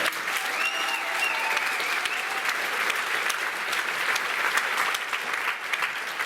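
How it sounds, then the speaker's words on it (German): Sustained applause from a large crowd at a school graduation-class variety show, steady and full throughout, with faint cheering mixed in. "nochmal einen herzlichen Applaus für Miki Krause und Christina Loh"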